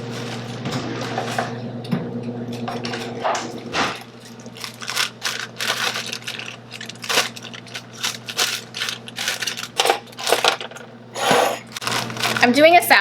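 Small scissors snip through salad ingredients in a quick series of crisp, close cuts and crunches, irregular in rhythm, over a steady low hum.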